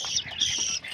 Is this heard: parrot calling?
yes